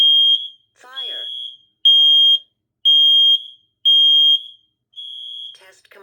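A home smoke alarm under test sounds a series of loud, piercing high-pitched beeps, six evenly spaced half-second tones, with a synthetic voice speaking briefly between them.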